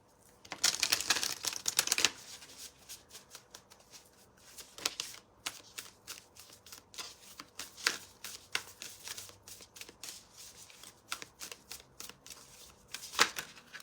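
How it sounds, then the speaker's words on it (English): Tarot cards being shuffled by hand, crisp papery riffles and flicks in quick bursts, loudest at the start and again near the end, close up with no talking. "Kathy, I'm shuffling for you right now, dear."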